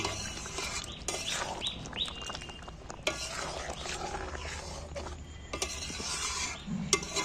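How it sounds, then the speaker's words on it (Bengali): Chicken seasoned with kasuri methi is stirred in a pan, a soft scraping and clinking of the spoon over a low sizzle, with faint bird chirps in the background. "এবার আমি নেড়ে দিচ্ছি কেশরি মেথিটা যে দিলু একটু নেড়ে মিক্সড করে নিচ্ছি"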